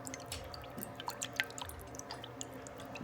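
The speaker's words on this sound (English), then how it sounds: "So all the water go to another bucket" Water drains from a tea tray through a tube into a bucket, heard as faint, irregular drips and small trickles over a quiet background.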